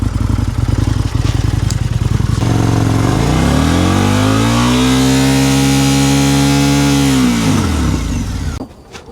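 An Indian Scout motorcycle engine chugs at idle, then revs up smoothly into a loud sustained whine, holds, and drops back before cutting off.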